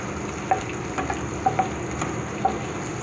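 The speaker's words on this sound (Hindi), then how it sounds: "अब हम इसके अंदर प्याज डाल देंगे, बारीक कटा हुआ, और इसको हिलाएंगे चम्मच को।" Finely chopped onions frying in hot oil, a steady close sizzle with a few light clinks of a spoon stirring them through the pan.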